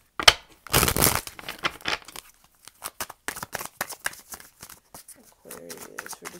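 Tarot cards shuffled by hand during a reading, with soft crinkly riffles and bursts of card flicking that come in irregular clusters, close and fairly quiet, with no voice.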